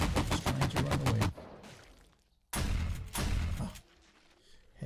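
Shotgun turret in 7 Days to Die (Alpha 16) firing at zombies: a rapid string of loud booming shots, then a pause and two more heavy blasts with fading tails.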